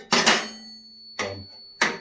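Three sharp metallic strikes from a workshop tool used as a hammer on motorcycle front-end parts, with the first a quick double hit followed by two single blows, each ringing briefly.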